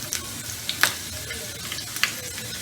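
Garlic and ginger fry in oil with cumin seeds in a pan for a Malka Masoor dal, a steady close sizzle with a few sharp crackles and pops and no talking.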